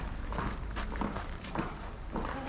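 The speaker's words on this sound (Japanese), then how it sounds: "コツコツという足音が印象に残ります。" Shinto priests walk down the great stone stairway at Tsurugaoka Hachimangu shrine after the Kannamesai ceremony, their steps producing a steady run of soft, close clicking taps over a busy, rustling outdoor background.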